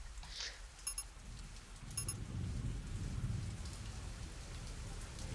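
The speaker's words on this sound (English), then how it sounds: "Great, now the rain's going to get really bad in the game." Steady rain storm ambience from the video game Zafehouse Diaries, a dense continuous hiss of rainfall with a low rumbling undertone, holding at a moderate level throughout with no voices.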